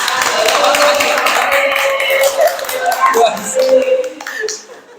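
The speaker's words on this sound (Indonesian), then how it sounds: "Wis, tepuk tangan." An audience of teachers and students at a school seminar claps hands: uneven, moderately loud clapping with some cheering or voices mixed in, tailing off toward the end.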